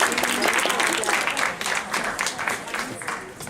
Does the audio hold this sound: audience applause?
yes